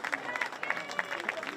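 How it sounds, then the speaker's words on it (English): Crowd applauding and cheering at a high school homecoming football game, a scattered, moderately distant wash of clapping heard under a commentator's voice. "McConnell gets a good cheer as he walks off under his own power."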